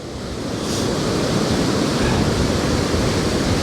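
Ocean waves rolling up onto coastal rocks make a steady, loud wash of surf that swells in over the first moment and then holds as a continuous rushing roar with no voices.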